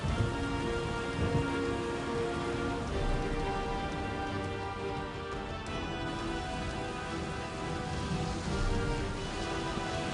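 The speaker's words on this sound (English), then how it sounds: "Then it started to rain." Steady rain falls in a dense, even patter that continues throughout without pause.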